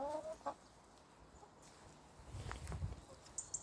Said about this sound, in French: Croyez-moi que les poules sont contentes.